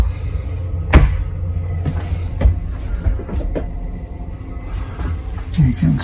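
A cruise ship cabin's shower door is handled, giving a few sharp knocks and rattles over a low, steady rumble, with a voice briefly heard in the room.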